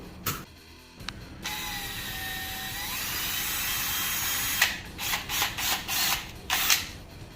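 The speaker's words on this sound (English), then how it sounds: "drill out that rivet with our trusty dusty drill" A power drill whines up and runs steadily at rising pitch, then breaks into a series of short grinding bursts as it bites into a metal rivet on a diecast toy truck.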